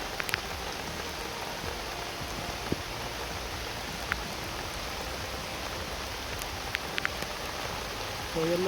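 Steady rain falls outdoors as a soft, even hiss of drops on surfaces, faint and continuous with a few sharper drips standing out.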